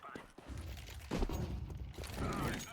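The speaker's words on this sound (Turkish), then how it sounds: "10 tane mermiyi bir kerede sıkıyor." Rapid gunfire in the Counter-Strike 2 video game rattles in dense bursts at moderate loudness, with overlapping shots and game noise throughout.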